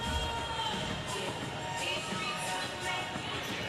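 A crowd at a squash final cheers and applauds continuously, a broad steady roar of many voices filling the arena for the whole stretch.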